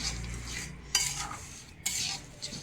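Spoon scraping and stirring jaggery into flour in a pot while making katlu paak, two sharper scraping bursts over a steady low rustle, close and alone.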